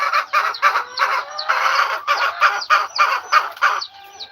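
A caged chicken hen clucks and calls repeatedly in quick, rhythmic bursts. The calls are close and loud, and there is no talk over them.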